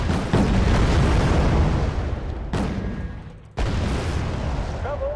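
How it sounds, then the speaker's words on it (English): Grenade launcher fire in the battle game Wargame: Red Dragon, a dense rumbling barrage of heavy booms and explosions in two long loud bursts separated by a brief dip, with faint game sounds near the end. "let's bring up the grenade launchers"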